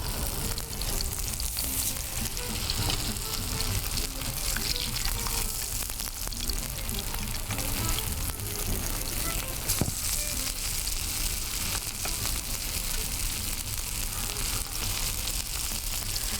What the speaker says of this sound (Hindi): जिसमें भी फ्राई करते हैं ज़्यादा कबाब एक वक्त में ना डालें।